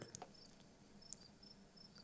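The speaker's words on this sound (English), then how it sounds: "Cricket chirping." Cricket chirping at low level, a few short high-pitched chirps spread across a quiet background with no other sounds.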